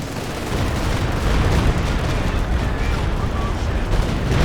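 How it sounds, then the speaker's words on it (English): Rocket barrage explosions in Company of Heroes 2 during a 4v4 battle, a dense, continuous rumble of blasts and gunfire sustained throughout, loud and busy with no clear gaps. "Dropping rocket barrage."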